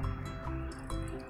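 Milk is poured into a homemade fungicide mixture of water and baking soda, making a brief, close liquid gurgle and splash that lasts about a second.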